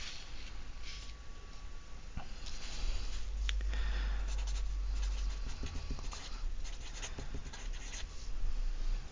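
Marker or chalk strokes scrape and tap across a board while a maths summary is written out, irregular bursts of writing over a steady room hiss, with no talking.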